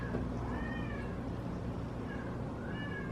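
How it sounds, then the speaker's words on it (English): A cat meows twice, mid-distance and moderately loud, over a steady low background hum in a home kitchen. "Do you hear that cat?"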